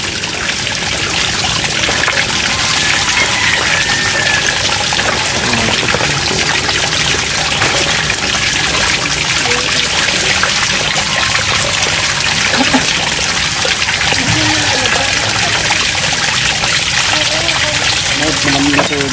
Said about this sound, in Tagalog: Malamig na tubig yan.